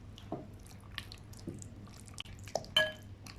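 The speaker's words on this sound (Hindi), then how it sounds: "अब हम ऑयल डालते हैं इसमें और फिर से एक दफ़ा इसे हाथों की मदद से मिक्स कर लेते हैं।" Wet squishing and dripping as marinated chicken is worked together with oil by hand, a few soft sticky squelches with brief drips, close and quiet, no talk.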